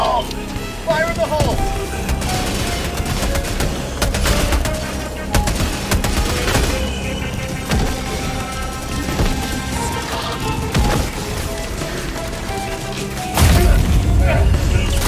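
Grenades explode amid constant gunfire in the Helldivers 2 video game: rapid machine-gun bursts and booming blasts fill the whole stretch, with a heavy explosion near the end and players shouting over the chaos.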